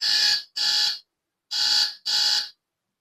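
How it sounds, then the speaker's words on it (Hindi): Electronic alarm beeping behind the camera in a classroom, two pairs of loud shrill bursts each about half a second long, separated by a short silence, with no talking. "यहाँ पे अलार्म लग गया था कैमरा के पीछे"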